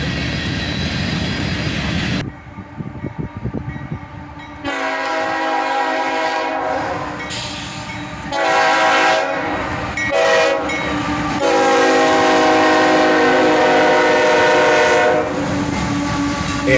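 An SD70MAC-led freight train rolls past near Dayton, its horn blaring in several long, loud harmonic blasts over the steady rumble and clatter of the cars.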